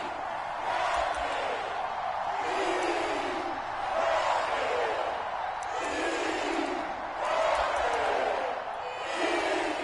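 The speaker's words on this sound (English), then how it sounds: "The crowd getting into it as we come up on a big third down." Stadium crowd in a Madden football video game roaring and swelling in broad waves ahead of a big third down, a steady loud wash of cheering with a commentator's voice faintly woven in.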